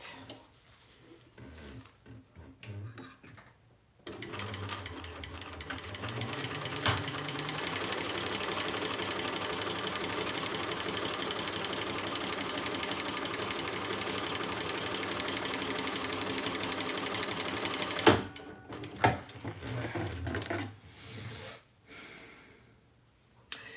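A sewing machine bastes along the edge of a fabric crossbody bag, running in one steady, even whir for about fourteen seconds, with light handling clatter and rustle before and after.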